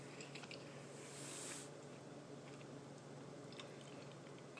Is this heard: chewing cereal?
yes